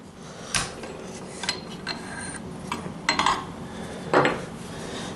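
A rail mount is loosened to remove and swap shims, with a few sharp metallic clicks and scrapes of tool on metal spaced irregularly over a quiet background, close and fairly distinct, with no talk.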